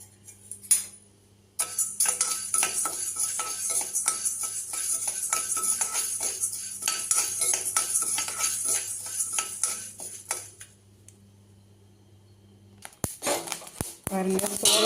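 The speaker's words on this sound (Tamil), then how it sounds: "பாருங்கள் சோளை பொரியுது." Dried corn kernels roasting in a pan pop and crackle in a dense run of sharp clicks and rattles, loud and close, easing off near the end before a few final clatters.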